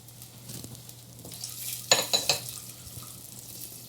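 Water splashes into a pan of melting butter and milk, a brief pouring burst with a few sharp splashy hits over a steady low hum, fairly close.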